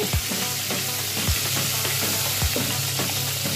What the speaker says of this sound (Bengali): ওই তেলের মধ্যেই দিয়ে দেবো কটা টমেটো